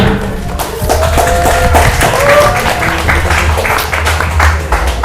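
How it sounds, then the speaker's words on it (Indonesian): Loud applause from a class of Islamic boarding school students during an open exam on reading classical kitab texts, a dense continuous patter with thumps and some background noise lasting throughout. "Beri tepuk tangan yang mulia."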